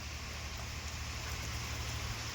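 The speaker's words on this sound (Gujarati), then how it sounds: "અને આ રીતનો છે વરસાદ તમને બતાવું" Heavy rain pours down on a farm during okra harvesting, a dense steady hiss of drops with a low rumble beneath and no voices.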